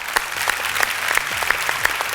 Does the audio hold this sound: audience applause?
yes